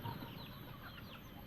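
Native chickens raised on a small farm cluck softly in the background, scattered low calls over a faint steady ambience with no voices.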